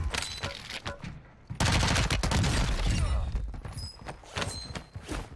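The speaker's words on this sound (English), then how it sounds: "Is this MP5 shooting nuclear missiles or what?" Lachmann SMG (MP5) firing in Warzone 2, rapid bursts of loud, dense gunfire in several volleys with short gaps, a voice talking over parts of it.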